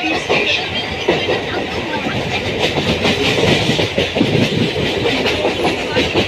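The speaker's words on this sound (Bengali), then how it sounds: "ঠিক 6টার মধ্যে সোদপুর ছেড়ে গাড়ি বেরিয়ে যাচ্ছে।" Local commuter train pulling out of Sodepur station and running on the rails, a loud, close, continuous rumble with rapid clickety-clack of wheels over joints.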